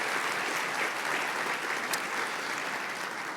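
A room full of guests at a donor appreciation luncheon claps steadily, a dense and even burst of applause with no speech.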